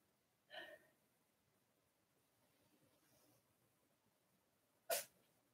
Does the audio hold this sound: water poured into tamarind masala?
no